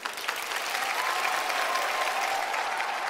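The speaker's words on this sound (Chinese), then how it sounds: "来，掌声送给大潘佳佳。" An audience applauds performers after a comedy sketch on a televised Chinese stage show, the clapping steady and sustained, heard from within the hall at moderate level, no voices over it.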